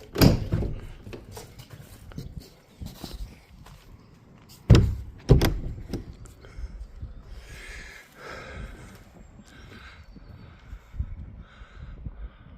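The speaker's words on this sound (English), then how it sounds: "let me go get the door and see if that fits" A camper van door panel being fitted into a van conversion gives several scattered knocks and thumps, with two loud bangs near the middle, set against a low rumbling background.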